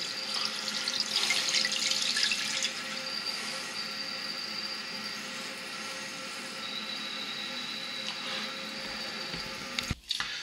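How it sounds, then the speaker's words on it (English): A toilet tank refills with water after a flush, giving a steady close hiss of running water that eases partway through and ends in a brief clunk. "Let the toilet fill up."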